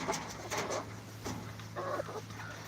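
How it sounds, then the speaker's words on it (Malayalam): A black karinkozhi chicken clucking nearby in short bursts with pauses between them, fairly quiet against a low background hum. "നമ്മളെ ഫാൻസി കോഴി കരിങ്കോഴി കാണിക്കാം"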